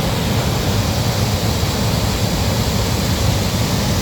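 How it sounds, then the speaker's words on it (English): A river tumbling over a few small waterfalls in the rain gives a constant, close, even hiss and rush of water, with no voices over it. "It was here I also discovered a river with a few small waterfalls, so I decided to venture up a bit further in the rain."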